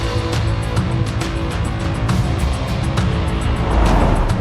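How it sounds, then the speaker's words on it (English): A Jaguar I-Pace electric car pulls away from a pit stop onto the track, a steady loud rolling whoosh of tires and wind building slightly toward the end. "Pit stop complete, the car heads back to the track."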